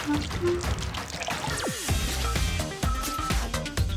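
Hot water pours from a tap into a pool, a continuous splashing wash with a few sliding tones and knocks mixed in, fairly loud and steady throughout.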